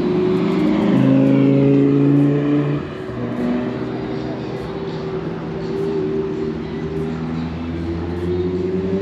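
A powerful Audi R8 engine roars past close by at Goodwood, its note rising then settling into a steady drone as it moves away, with faint voices underneath.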